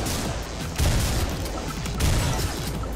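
Gunfire in the PC game Butcher comes as short volleys of shots, with two heavier bursts standing out. The shots are muffled and sit over a constant rumbling game background.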